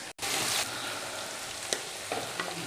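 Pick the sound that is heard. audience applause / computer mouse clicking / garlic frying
garlic frying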